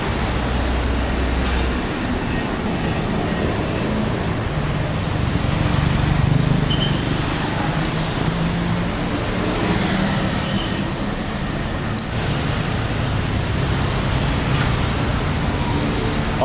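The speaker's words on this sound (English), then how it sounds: "All Bangkok traffic." Dense Bangkok street traffic roars steadily, engines and rumbling vehicles blending into a loud, unbroken wash of city noise with passing surges.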